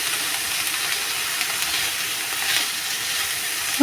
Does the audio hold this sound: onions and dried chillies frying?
yes